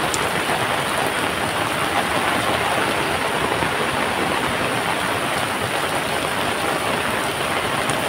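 A river in full flood in the Konkan countryside, its water rushing hard in a steady, loud broadband roar that fills the whole stretch without a break.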